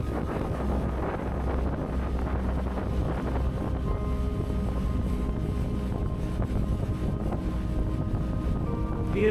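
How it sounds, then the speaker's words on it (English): Wind buffeting the microphone aboard a tugboat, a loud constant low rumble and roar that persists without talk. "The wind's good."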